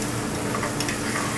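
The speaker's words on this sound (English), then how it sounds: "We're going to take this to the stove and start cooking. Give it a quick saute." Small diced chicken breast sautéing in a hot pan on a restaurant stove, a steady close sizzle and crackle with faint stirring, no talk.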